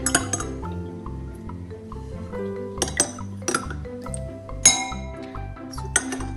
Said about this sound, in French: ensuite je prends une petite cuillère et je mélange.